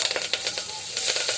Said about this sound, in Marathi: तूप बऱ्यापैकी गरम झालंय की आपण त्याच्यामध्ये जिरं, मोहरी आणि हिंग टाकणार आहे